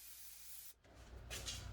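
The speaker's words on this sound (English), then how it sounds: "All we're doing is just taking the spray glue, spraying it on" A steady aerosol spray hisses close up as spray glue is applied to a home-built craps table before vinyl goes on, briefly cutting off, then resuming in a louder, rougher burst.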